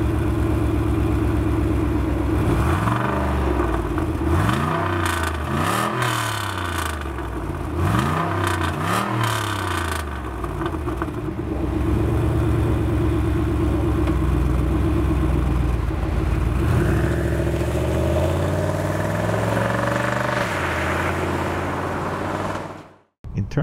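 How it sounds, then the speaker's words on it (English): A fourth-generation Cadillac Seville STS V8 revs repeatedly in quick throaty blips, then settles into a loud, steady rumbling exhaust roar with occasional rising surges, close and continuous. "there are few V8s that can match the glorious exhaust note and roar of this engine"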